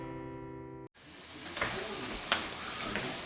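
Hamburger meat frying in a pan, a steady close sizzle with a few sharper crackles after a short sung passage cuts off.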